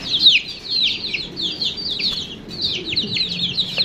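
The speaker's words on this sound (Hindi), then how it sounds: "ये चूजों ने कितना शोर मचाया हुआ है।" Young chicks cheep and peep continuously in the early morning, a dense chorus of high, rapid calls close by with no talking.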